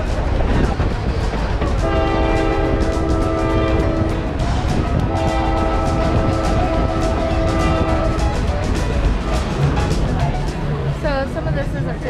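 A tourist train running to Dillsboro, North Carolina sounds two long, loud multi-note horn blasts over the steady rumble and clatter of rolling cars, with voices talking faintly underneath.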